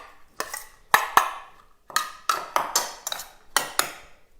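Spoon scraping and clinking against a small bowl while pesto is stirred into raw cauliflower rice, a run of sharp, close taps and scrapes in an irregular rhythm, no voices.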